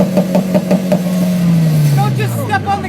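A Mitsubishi Evo X's exhaust pulses in a quick, even run of throaty blips that swell into a rising then falling rev, close and loud, with voices talking over it.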